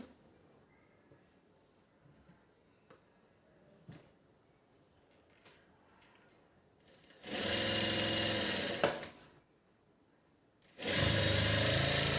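Sewing machine stitching a blouse side seam in two loud, steady whirring bursts, separated by quiet handling noises and light clicks of fabric being adjusted.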